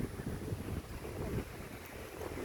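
Strong outdoor wind blasts against the microphone in continuous low rumbling gusts, swelling and easing without any pause over the whole stretch.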